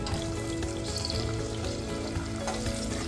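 Onions and tomatoes sizzling and frying in a pan for veg biryani, a steady close crackle with occasional stirring scrapes, fairly quiet and without talk.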